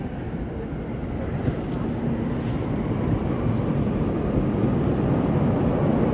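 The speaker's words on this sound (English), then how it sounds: "I hear the train coming. There it is. There's that orange line." Chicago L Orange Line elevated train passing on a city street at noon, a loud steady rumble that holds across the whole stretch with constant roar and no pauses.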